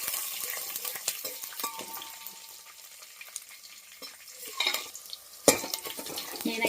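Andhra-style tempering of green and dried red chillies, curry leaves and crushed garlic sizzles in a pan while a spoon stirs and scrapes, soft steady frying with a few sharp metallic clinks, close up.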